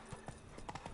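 Hooves of the horse Roach in The Witcher video game, a quick string of soft, quiet clip-clop beats over a brief moment.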